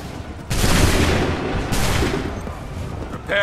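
Musket volleys in Assassin's Creed III during the Battle of Lexington: two massive, roaring discharges of massed muskets, each a dense burst of overlapping shots that rumbles and decays slowly, with a short swelling noise closing the sequence.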